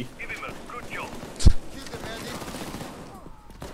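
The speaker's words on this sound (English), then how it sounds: "I'm just gonna cut these guys down with the MG" Machine gun fire in a video game arrives as a single loud, brief burst partway through, surrounded by quieter game noise, with a voice speaking around it.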